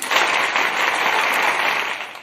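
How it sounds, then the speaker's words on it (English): Canned applause effect played by a talk show host, a short, dense burst of clapping that swells and fades out with no talk. "Let me get my clapping here."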